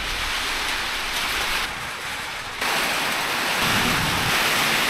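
Heavy rain pours steadily during a storm in the Laos jungle, a dense, continuous hiss that briefly eases then swells louder again, with no voices over it.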